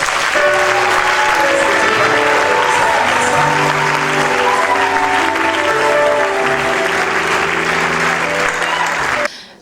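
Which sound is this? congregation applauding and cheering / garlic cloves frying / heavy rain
congregation applauding and cheering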